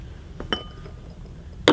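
Wine glasses clinking against each other as they are taken from a wine tote, a few light ringing chinks close by, ending in a louder clink, with no speech.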